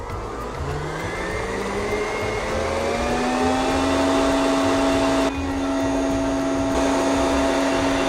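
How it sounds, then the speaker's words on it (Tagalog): An electric hand mixer whips three egg whites for vanilla cupcakes, a loud, steady motor whine that rises slightly in pitch as it runs, with a brief dip in the hum partway through. "gagamit naman tayo ngayon ng mixer"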